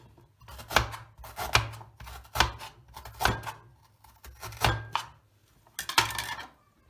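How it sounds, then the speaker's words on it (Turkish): A knife chops carrots steadily on a cutting board, about eight firm, evenly spaced strokes in quiet surroundings. "havuçlarımızı doğramaya geçelim"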